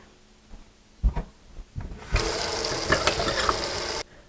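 Tap water gushes into a kitchen sink in a steady, loud rush lasting about two seconds, after a few soft clunks and knocks, then cuts off abruptly.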